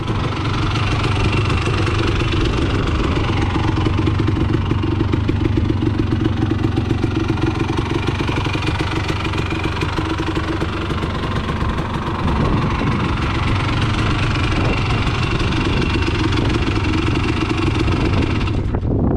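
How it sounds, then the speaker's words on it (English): A rebuilt motorcycle engine with stock jetting idles steadily and evenly for the whole stretch, a loud, close, continuous rumble with a regular knocking pulse and no talking. "as you can see, it's still idling really good."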